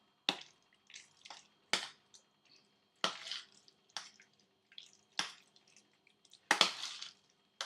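Minced meat, lamb, chicken or beef for kheema, being squeezed and mixed by hand with one raw egg: a close series of irregular wet squelches and slaps, about a dozen soft bursts spread over several seconds.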